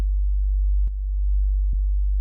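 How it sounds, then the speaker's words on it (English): Very low, pure sine-wave sub bass tone with a slow attack and a little release, played in Bitwig Studio for melodic dubstep, a steady deep hum with two faint clicks as notes change. "it's just a sine wave that's played really low, with a little bit of a release and a slow attack."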